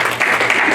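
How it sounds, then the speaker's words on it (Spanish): Applause from a church congregation at a sermon, a dense burst of many hands clapping together, loud and close, filling the whole brief moment without voices. "Desen un aplauso a ustedes mismos, de verdad."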